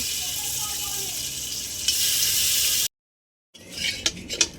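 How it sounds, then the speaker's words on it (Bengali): Salted prawns hit hot oil in a wok, giving a bright, loud steady sizzle for a few seconds, then a short silence, followed by metallic clinks and scrapes of a utensil against the pan. "মাছগুলো একটু ভেজে নেব।"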